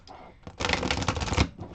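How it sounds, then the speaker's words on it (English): A riffle shuffle of a tarot deck with linen-textured, matte-finish cards: a quick, dense burst of fluttering card snaps lasting about a second, fairly close and loud, with quieter handling before and after. "And I'm just really enjoying riffle shuffling it."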